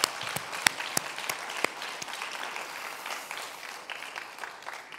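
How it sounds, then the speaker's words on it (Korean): Church congregation applauding together during a Sunday service, a steady wash of clapping with a few sharper claps standing out early on, then settling into continuous moderate applause. "우리 이 시간에 다 같이 뜨겁게 서로 박수하면서 격려하겠습니다"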